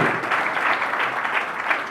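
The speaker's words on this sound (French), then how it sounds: "Applaudissons aussi pour sa moitié." Steady, dense applause from guests at a civil wedding ceremony at a registry office in Brazzaville, clapping continuously and fairly close throughout.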